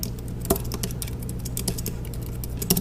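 Typing on a computer keyboard while coding a memory allocator, a quick run of light close key clicks with an occasional louder tap over a low steady hum.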